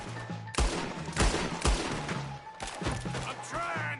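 Gunfire in a Western-style video game: several sharp, loud shots in quick irregular succession, with crashing impacts and scattered shouting voices in the background.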